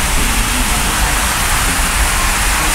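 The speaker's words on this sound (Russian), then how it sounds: "Слышите, какой дождь начался" Heavy tropical rain pours in Ayutthaya, Thailand, a loud, dense, unbroken hiss of water falling close by with no pauses or speech.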